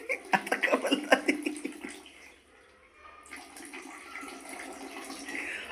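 Tap water gushes over an animal being bathed, splashing loudly in uneven bursts for a couple of seconds, then dropping to a softer running flow; people talk nearby.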